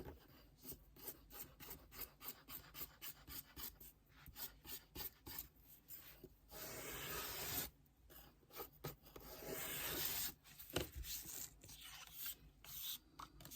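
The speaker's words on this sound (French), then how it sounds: "On va venir avec la lime corriger ça." A metal hand file rasps back and forth across a workpiece in quick, rhythmic strokes, close and clear, with a few longer continuous scraping passes in the middle and no talking.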